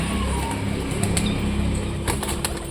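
A pet pigeon beats its wings in brief fluttering bursts as it is caught by hand, close and fairly loud over a steady background hiss.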